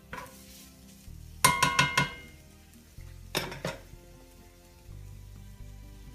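Chickpea (garbanzo bean) scramble sautéing in a pan, with bursts of metal utensil scraping and clinking against the pan over a low steady sizzle, scraped in two short close-up spells.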